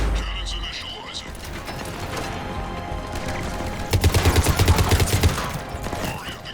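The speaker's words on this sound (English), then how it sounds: "Cannons initializing." Cannons powering up in the Mass Effect 3 game, whirring mechanical clanks that build into a rapid pulsing burst of rattling shots, with game voices and effects around them.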